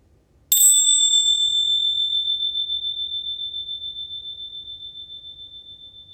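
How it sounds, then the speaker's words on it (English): A single bell is struck to close a yoga nidra relaxation practice, giving a bright sharp strike followed by a long, clear, slowly pulsing ring that fades gradually over several seconds in an otherwise quiet room. "I'll ring my bells to help bring back your awareness."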